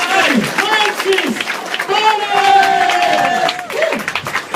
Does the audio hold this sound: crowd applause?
yes